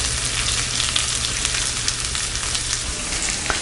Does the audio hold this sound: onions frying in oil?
yes